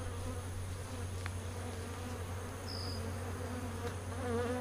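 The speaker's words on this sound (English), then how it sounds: "These bees are defensive right now, with good reason." Defensive honey bees swarm around an opened hive, their steady, close buzzing droning continuously with occasional individual bees whining past nearby, no voices over it.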